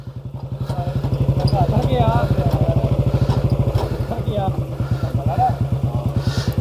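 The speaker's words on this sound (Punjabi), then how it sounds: "ਇਹ ਇਦਾਂ ਬੁਲਟ ਮੋਟਰਸਾਈਕਲ ਅਸੀਂ ਲੈ ਕੇ ਆਏ" A Bullet motorcycle engine thumps close by in hilly Himachal Pradesh terrain, a loud, steady low-pitched single-cylinder beat with rapid even pulses throughout, while someone talks over it.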